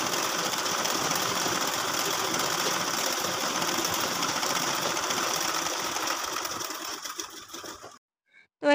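A sewing machine runs steadily at close range, stitching gathers into fabric for a baby girl's frock, a continuous whirring drone that slows and stops near the end, followed by a brief click.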